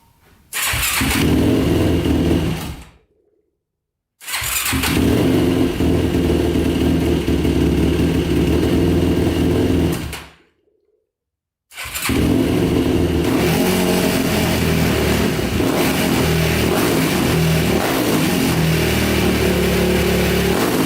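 A special edition quad ATV with suspected bad rings, smoking heavily, runs loudly and revs in long sustained bursts, cutting out twice briefly before roaring again; no talking.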